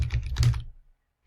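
Quick burst of typing on a computer keyboard while naming a funnel series in online page-building software, a few close clustered key taps that stop after about half a second, followed by quiet.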